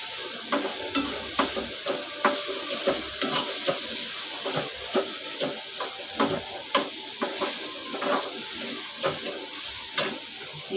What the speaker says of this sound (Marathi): आता मी त्यात सगळे मसाले आहेत ना ते टाकते. सगळं मिक्स करून घेते.